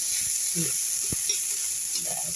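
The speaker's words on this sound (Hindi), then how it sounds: "ये प्याज पक जाए, थोड़ा सा, ज़्यादा पकाने की ज़रूरत नहीं है" Onions cooking in a pan for a potato and cauliflower dish give off a steady, fairly loud sizzle throughout, with a few soft stirring knocks and one sharp tap near the middle.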